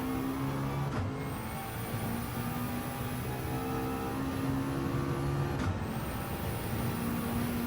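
McLaren race car in Gran Turismo 7 lapping Road Atlanta, its engine a steady, loud, high-revving drone that breaks briefly twice, like quick gear shifts, with no talking.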